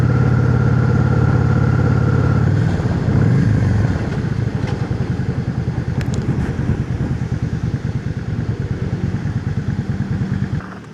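A motorcycle engine runs close by, first a steady drone, then settling into a rapid, pulsing idle-like chug that continues evenly to the end.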